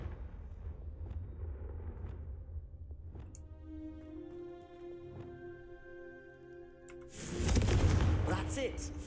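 A Confringo fire spell from a Harry Potter video game bursts out as a loud, rushing blast near the end, after a stretch of quieter ringing tones and soft thumps.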